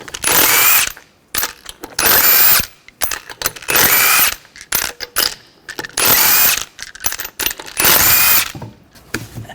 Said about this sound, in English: Remove the lug nuts,